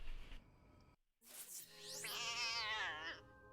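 A cat in a video game meows, first a long rising-and-falling cry and then a drawn-out wavering yowl, loud and close after a brief gap in the game sound.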